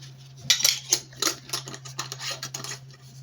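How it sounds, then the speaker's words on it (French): A metal spoon scooping and clinking against cardamom in a container in a home kitchen, several light scrapes and taps in irregular rhythm, close and quiet, with a low steady hum beneath. "Je prends une cuillère de cardamome"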